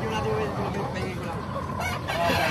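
At a Bocaue market, a kanawayan gamefowl rooster crows with a ringing, drawn-out call that rises from a busy background of murmuring and bustle.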